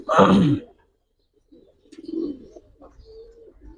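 Giribaz pigeons in a loft give one full, throaty coo up close, then a pause followed by softer, rolling coos and murmurs.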